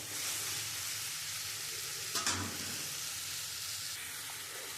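Poppy seed paste frying with okra in a pan gives a steady, close sizzle throughout, broken by a brief clatter of stirring midway.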